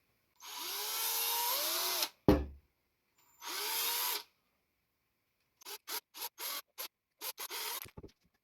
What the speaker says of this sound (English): I am using a 5/64 inch bit.